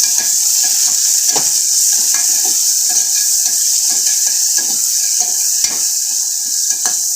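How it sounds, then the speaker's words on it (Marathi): Coriander and garlic paste sizzles loudly in a hot pan as a spoon stirs it, with a constant frying hiss broken by repeated short scraping strokes and no voices. "आपण वाटण केलेलं कोथिंबीर आणि लसूणचं पेस्ट टाकणार आहोत आता हे चांगलं एक जीव होते तर हलवून घ्यायचं आहे परतवून"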